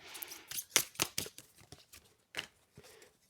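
A tarot card is drawn from a deck, a quiet series of close, crisp papery flicks and slides, several sharp snaps of cards in an uneven rhythm that fades out at the end.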